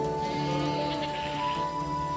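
Goats bleat in a Garhwal mountain forest, a sustained, fairly loud, tonal bleating that carries through the whole moment without pause.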